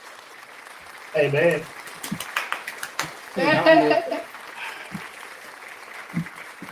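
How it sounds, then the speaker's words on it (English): A round of applause sound effect played on a casual group stream: two short bursts of clapping, the second longer, with people talking around and between them. "Since you played that round of applause"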